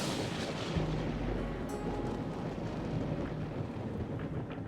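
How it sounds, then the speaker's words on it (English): Low, continuous thunder rumble from the video game Deadly Premonition 2, a steady deep roll that carries through the whole stretch with no talk over it. "Do you hear that thunder?"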